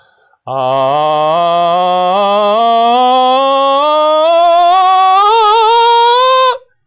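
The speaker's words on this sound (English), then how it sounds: "Pulling the chest voice up through forcing it." A single sustained sung vowel in chest voice, forced steadily upward in pitch toward the register break, loud and strained, ending abruptly after about six seconds, with no accompaniment.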